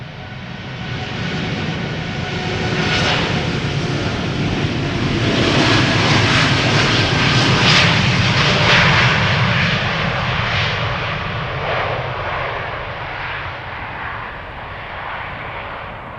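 A United Airlines jet departs Amsterdam Schiphol, its engines roaring loud and close as it swells to a peak and then slowly fades away, with no voices over it.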